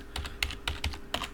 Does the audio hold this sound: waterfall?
no